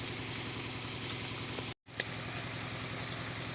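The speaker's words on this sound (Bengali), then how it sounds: "রোলগুলো আমি ঘুরিয়ে ঘুরিয়ে সব দিকটা ভালোভাবে ভেজে নিচ্ছি" Potato rolls frying in hot oil over a low flame, being turned on all sides, with a steady low bubbling sizzle and a brief dropout partway through.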